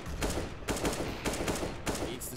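AK rifle fire in a Counter-Strike match on the Inferno map, rapid shots in three or four quick bursts, fairly faint and evenly spaced.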